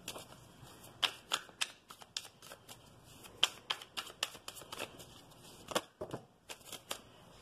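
Oracle cards are shuffled by hand in a quiet room, a close series of soft, crisp riffling flicks coming in irregular bursts and heard alone.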